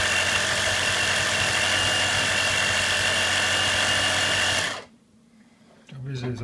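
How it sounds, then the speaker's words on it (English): Small air compressor running with a loud, steady mechanical drone and rattle close by, then cutting off abruptly, leaving near quiet before a low hum and a voice resume. "So if I start running a compressor again,"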